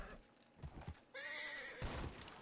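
Horse in the Red Dead Redemption 2 Online video game, snorting and hoof clip-clops followed by a loud, bright whinny and another snort, close and alone.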